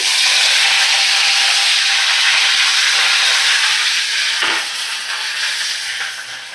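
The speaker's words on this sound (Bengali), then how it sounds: "দেখো, ওই গরম তেলে আমি এবারে কারি পাতা দিয়ে দিলাম।" Curry leaves dropped into hot oil for a fish dish sizzle with a loud, steady hiss that eases slightly toward the end.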